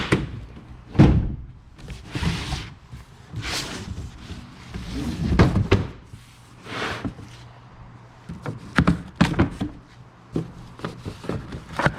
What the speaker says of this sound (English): So let's open up the box and see what it's going to take.